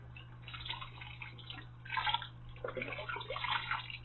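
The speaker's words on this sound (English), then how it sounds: "I'm going to add vegetable broth." Vegetable broth poured into a pot of homemade split pea soup with a ham bone, a soft, uneven splashing and gurgling pour with surges, close and moderately quiet.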